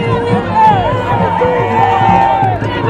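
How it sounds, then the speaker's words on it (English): A crowd gathered at a school event welcomes the president with loud cheering and babble, while a nearby voice talks over the din. "the people, the crowd are welcoming him"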